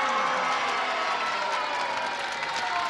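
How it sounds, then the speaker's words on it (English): A game show studio audience reacts with mixed booing and applause, a steady dense crowd noise holding for a few seconds. "A few booed and a few applauded."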